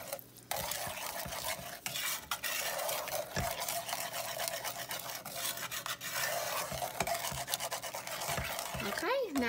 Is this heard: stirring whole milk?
yes